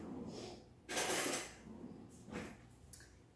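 A spoon stirs Nutella overnight oats in a container, giving a couple of scraping, clinking bursts close by, the loudest near the start, then lighter stirring scrapes with no talk.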